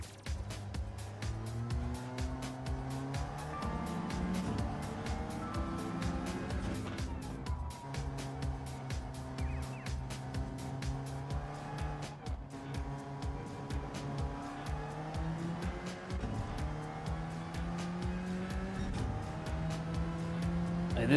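Race car engine roaring steadily with shifting pitch, punctuated by rapid clicks and brief tire squeals, loud and continuous throughout.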